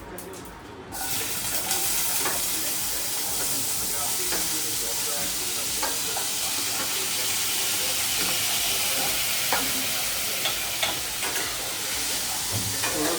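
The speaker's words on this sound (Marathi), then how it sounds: "आता आपण इथं कांदा परतवून घेऊया, थोडासा लालसर करेल मी थोडा" Onion sautéing for a garlic tadka in a pan: a loud, steady sizzle and hiss that starts after a brief quiet moment and keeps going, with scattered stirring clicks and scrapes. No voice is heard.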